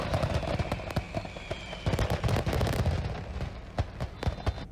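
Fireworks burst over a beach in a rapid, irregular volley of sharp cracks and bangs, some crackling in quick clusters, loud and close throughout.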